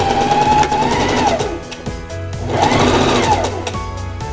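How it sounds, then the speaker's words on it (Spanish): A sewing machine stitching a 1 cm seam on a blouse, a loud, steady mechanical whir in two bursts with a brief slowdown between them, heard up close with no talk. "entonces haríamos nuestra costura a 1 centímetro para terminar de unificar nuestra pieza y quede bien armada."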